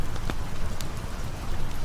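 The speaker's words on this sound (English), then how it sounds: "beneath the gentle rhythm of the rain" Steady, gentle rain patters on a surface as a dense, even hiss, with a few slightly sharper drops standing out.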